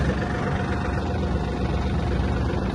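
A Yanmar F-250 Japanese mini tractor's engine runs steadily, a loud, continuous close-up drone without pauses or voices.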